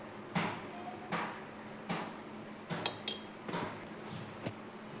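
A spoon clinks and scrapes against a pan while mixing spices into fish egg fry, several sharp metallic taps spaced out over a quiet kitchen background.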